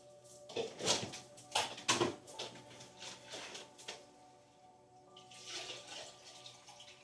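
Water running from a kitchen tap into a glass or sink, a steady splashing hiss with some clinks and handling noises at moderate distance, no talking.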